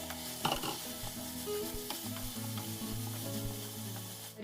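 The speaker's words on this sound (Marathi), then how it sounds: "हे कॅरमलाइज करून झाली आहे साखर ही आपण यामध्ये घालायची आणि हे फटाफट हलवून घ्यायचं" Caramelized sugar is tipped into a hot pan and stirred briskly, giving a loud, continuous sizzle and fry with scraping strokes throughout.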